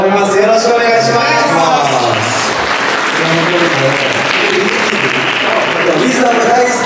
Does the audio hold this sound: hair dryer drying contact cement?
no